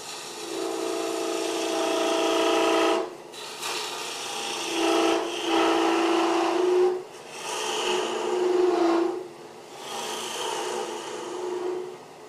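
A block of wood spins on a lathe as a tool trues up its end, giving steady scraping and rasping passes broken by brief pauses, close and loud throughout.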